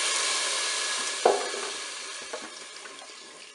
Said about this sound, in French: Maintenant, je vais ajouter mon bouillon. Donc 400 ml d'eau et puis un cube de bouillon de bœuf émietté.